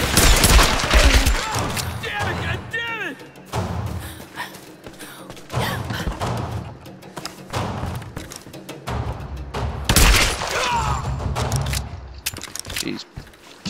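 Bursts of gunfire rain down on Lara Croft during a firefight in the Tomb Raider video game, sharp volleys and thuds recurring across the stretch with dense game sound effects between them.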